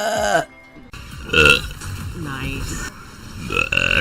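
Someone lets out a loud, croaky burp with a voiced, bleating quality, broken into a few pulses, with talk just before it.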